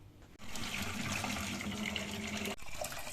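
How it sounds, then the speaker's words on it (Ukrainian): Reddened water from rinsing sprouts pouring steadily into a sink for a few seconds, a splashing gush that starts abruptly and cuts off near the end. "водичка стала червоною, і ми її просто виливаємо"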